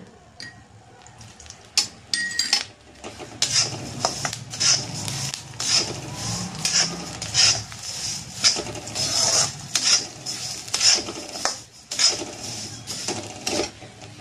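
Coriander seeds roast in a pan for a spicy onion-garlic black masala, giving a steady stream of crisp ticks, scrapes and rattles as they are stirred, close and fairly loud without talk.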